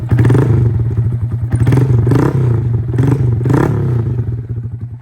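A cold Honda Grom motorcycle with about 748 miles on it revs up close by, its steady low engine drone swelling in several throttle blips with clattering mechanical noise.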